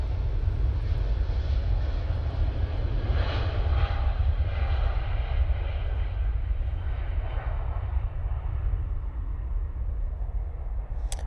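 An airliner on approach to land at Manchester Airport drones steadily with a broad, continuous engine roar that holds at a fairly constant loudness throughout, slowly shifting in tone as it passes.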